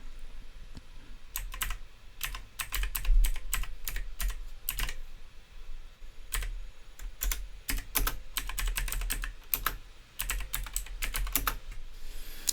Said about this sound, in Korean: 키보드에서 한영키를 바꾸셔서 입력을 해보도록 할게요